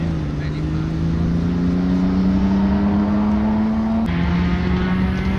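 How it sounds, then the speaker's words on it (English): Opel rally car, a Vauxhall, at a Lombard Rally stage at Weston Park, its engine note holding a steady, loud, slowly rising drone, dipping briefly near the end as it passes close by, with spectator voices faintly underneath. "That's the Vauxhall making all that noise."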